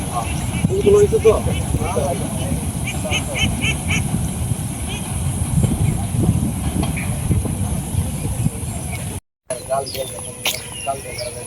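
A train passing close by: a steady, loud rumbling roar of rail cars carries on for about nine seconds, then cuts out briefly before resuming, with faint honk-like tones mixed into the din.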